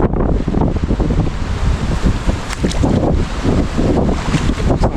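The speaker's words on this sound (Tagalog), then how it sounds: "Ang lakas ng agos oh" Loud, continuous roar of a swollen river's strong current after a typhoon, with heavy wind buffeting close by and no break in the rushing noise.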